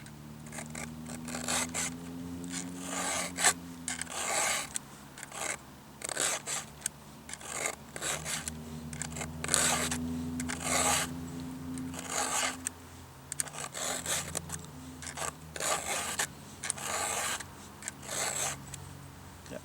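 A file rasping across the teeth of a chainsaw chain clamped in a notched treetop limb, steady repeated strokes with short pauses between them, close and fairly quiet, with no talking.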